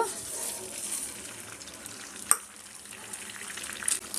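Egg frying in a spoonful of hot oil on a heated pan for hakka noodles, a brief hissing sizzle with a couple of sharp clicks, fairly close.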